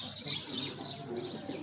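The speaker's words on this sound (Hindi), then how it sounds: "अब एहसन भाई के कबूतर इंशाल्लाह दोबारा बन जाएंगे।" Soft, close pigeon cooing in a loft, a low throaty murmur continuing throughout with faint chirps mixed in, no speech.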